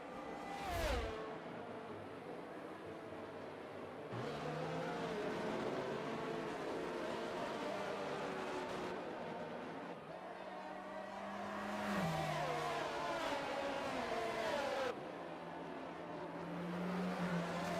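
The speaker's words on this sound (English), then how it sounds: "And we have the safety car heading around another time." Race cars in the F1 22 video game run a lap behind the safety car, with steady engine drone and rising and falling revs as cars pass by at moderate distance, continuous throughout with no talk.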